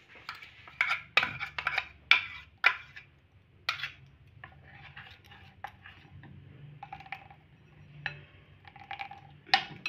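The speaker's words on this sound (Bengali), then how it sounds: "আমি কিন্তু এটা পিষে নিয়েছি, ঢেলে নেব বাটির মধ্যে।" A ground spice paste is poured and scraped from a grinder jar into a bowl, giving a series of sharp clinks and taps followed by softer scraping and knocking, close and fairly quiet.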